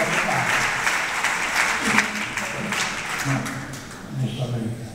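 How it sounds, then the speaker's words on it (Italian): An audience applauds at a live event in Correggio, Italy. The clapping is steady and sustained throughout, with a voice speaking over it. "Un applauso"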